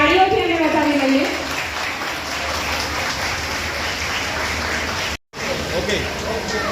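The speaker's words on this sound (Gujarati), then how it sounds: "સુરેશભાઈ પટેલ, તાળીઓથી એમને વધાવી લઈએ." Audience clapping at a fair event welcoming an honoured guest, Suresh Patel, a dense, steady round of applause that continues with a brief dropout, with a voice speaking over the start.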